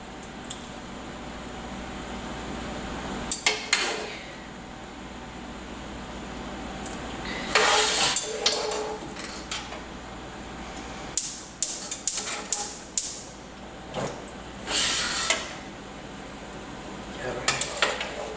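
Onions and garlic sauté in meat fat in a pan during a baked ziti with meat sauce, with loud clattering utensil scrapes and knocks in bursts over a low sizzle.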